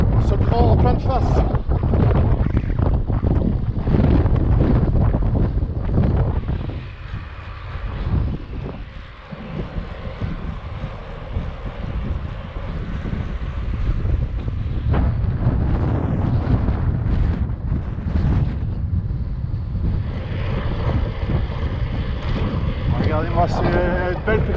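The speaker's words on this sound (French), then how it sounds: "c'est un endroit où il y a beaucoup de vent" Strong gusts batter the microphone in heavy, uneven rushes on a gravel bike ride in open countryside, with a voice talking intermittently in French underneath the buffeting wind.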